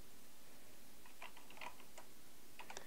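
Light typing on a computer keyboard while writing C++ code, a few soft scattered key taps, faint and close against a hiss of background noise.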